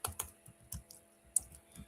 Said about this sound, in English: you should see how fast I'm typing without these nails now